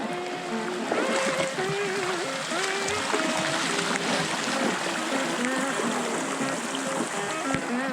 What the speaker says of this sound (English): Look how much water's coming through this creek now